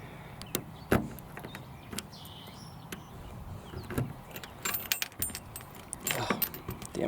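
A bunch of car keys jangling up close beside a 1962 Ford Falcon, metallic clinks and rattles coming in bursts, with a couple of louder jingles near the end.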